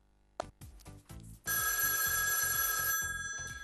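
A telephone rings on a TV health talk show, loud and close; a shorter ring cuts in and then a long, steady trilling bell sounds over a regular pulsing rhythm.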